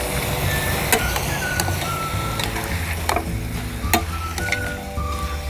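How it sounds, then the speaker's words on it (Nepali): Goat meat and onions sizzle in a pan while a spoon scrapes and taps repeatedly as the pieces are stirred, a close, steady frying hiss with no talking. "अब मासुलाई प्याजमा मिक्स गरौँ।"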